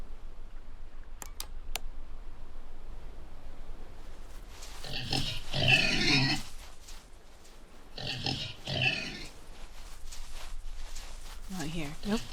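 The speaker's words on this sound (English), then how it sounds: "Look at that pig. Poor pig." Pig oinking and grunting in a paranormal investigation video game set at a lighthouse, two loud bursts of snorting grunts a few seconds apart over a quiet background, with a few faint clicks at the start.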